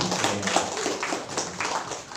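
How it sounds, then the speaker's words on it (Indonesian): Audience in a seminar room claps for the second group after its presentation, a dense, steady patter of many hands lasting the whole moment at moderate loudness. "tepuk tangan untuk kelompok 2"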